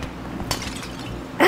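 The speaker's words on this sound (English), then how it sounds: "I'm gonna knock stuff over." Objects being knocked over in a cat video game, with a brief clatter partway through and a sharper glassy crash and clink at the very end over a low game background.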